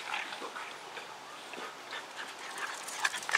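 Dogs playing together make soft, fairly faint whimpers, snuffles and panting over a short stretch, growing slightly louder toward the end.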